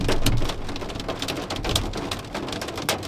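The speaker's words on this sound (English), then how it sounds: "it is putting out a little bit of hail" Dense, steady pattering of hail striking surfaces close by during a Nebraska thunderstorm, with sharp irregular clicks standing out above the continuous wash; no voices.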